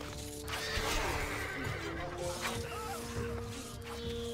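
A horse in Stronghold: Crusader Extreme whinnies loudly with a shrill rising neigh over hoofbeats and ambient game sounds, close and clear.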